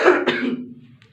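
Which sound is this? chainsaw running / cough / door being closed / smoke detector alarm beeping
cough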